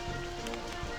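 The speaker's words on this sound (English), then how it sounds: "Now that it's raining, it might look a little weird." Steady rain falling in the Roller Coaster Tycoon 3 video game, a continuous even hiss of drops filling the brief moment with no talk over it.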